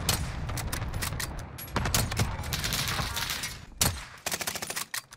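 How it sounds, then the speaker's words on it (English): Gunfire in Call of Duty: Warzone, with rapid automatic bursts and sharp single shots arriving in uneven clusters, loud and close, separated by brief lulls. "He's shooting at us, dude."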